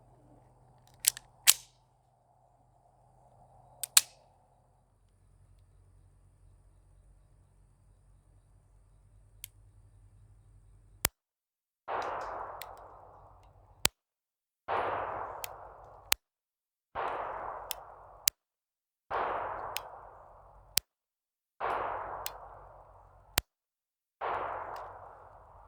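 Beretta Cheetah 84F pistol fired in a steady string of sharp shots, each crack followed by an abrupt dropout where the recording cuts to near silence, with quieter handling clicks before the shooting begins.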